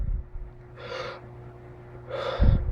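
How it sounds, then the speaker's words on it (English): Two recovery breaths after a breath hold during a dry static breath-hold exercise, each a strong close inhaled gasp about a second and a half apart, the second ending with a heavier breathy rush. "when we breathe in, we take a big breath, we hold for 1 second or a little bit more, we breathe out"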